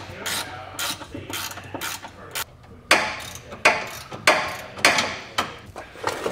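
A hand ratchet backs out heat shield bolts on a 2023 Chevrolet truck frame rail, giving bursts of rapid close clicking and pawl chatter, then sharper, louder ratcheting strokes with short pauses between them.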